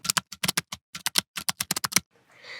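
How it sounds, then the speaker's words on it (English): Keys clatter on a computer keyboard during file renaming in Windows, a quick run of about twenty crisp, close taps in an uneven rhythm, then a brief faint rustle. "you just have to press one key, which is the F2 key, after selecting the file"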